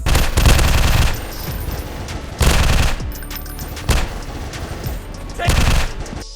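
Gunfire in the mobile first-person shooter Modern FPS Military Strike, a zombie game with a dark setting: several loud bursts of rapid automatic fire come in roughly regular waves, with a steady noisy background between them.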